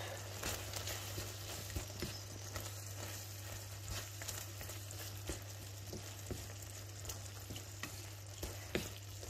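Curry chicken filling simmering in a pan for batbout, a steady soft sizzle and bubbling with occasional faint taps and pops, close and continuous over a low hum.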